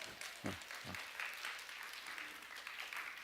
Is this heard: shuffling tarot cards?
no